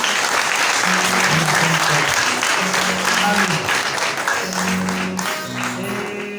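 Loud, dense applause fills the whole stretch, a steady roar of many hands clapping that eases slightly toward the end.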